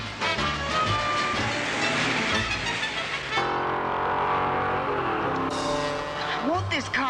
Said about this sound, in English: Won't this car go any faster